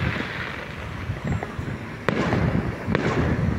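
Fireworks bursting on Guy Fawkes night in Luton, UK, heard outdoors with wind noise, two sharp distant bangs standing out over a steady rumbling background.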